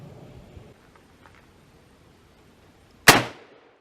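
A single sharp, loud rifle shot from a Weatherby .338 RPM fitted with its factory muzzle brake, a sudden crack with a short decaying tail, standing out after several seconds of quiet.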